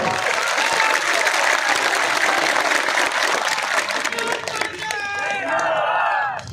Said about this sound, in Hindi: पहला एक भी ताली जोर से बजाओ